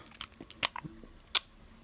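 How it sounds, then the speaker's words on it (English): Crunchy pretzels munched close up, several sharp crisp bites and chews in an irregular rhythm over a quiet room, with no talking. "grab the pretzels, start munching them"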